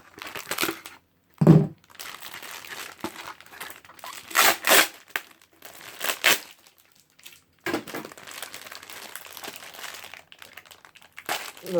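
Plastic packaging around a Glide Ragnaruk crinkles and crunches in irregular bursts, close and fairly loud, with quiet gaps between handling noises during an unboxing.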